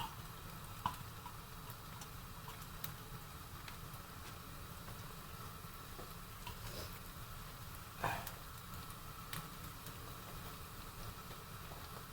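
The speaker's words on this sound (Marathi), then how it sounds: "हे बघा, आता तेल तापलेलं आहे, तेव्हा तुम्ही आता ह्याच्यामध्ये ही लसूण टाकायची" Whole garlic cloves dropped into hot oil in a home kitchen for spicy prawn pickle, giving a steady low sizzle throughout with a few faint clicks and knocks, and no talking.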